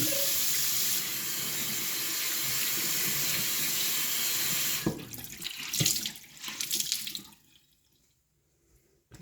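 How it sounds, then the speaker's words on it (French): Tap water runs steadily into a sink for about five seconds while something is rinsed, then splashes and gurgles in short bursts before the flow stops and it goes quiet. "Donc on fait juste rincer avec de l'eau."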